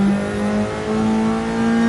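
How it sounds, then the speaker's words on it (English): A race car engine in a racing video game at Spa, a loud, sustained whine with a steady high-pitched tone that briefly dips before climbing again, with no talk over it. "Sounds like a proper race car, this one, compared to the Alpha."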